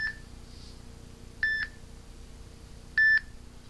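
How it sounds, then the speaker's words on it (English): An outgoing call from an iPhone on a T-Mobile prepaid plan gives a ringback tone: three short, clean electronic tone bursts about one and a half seconds apart over a faint, quiet background. "I can't show you the number, but it is ringing."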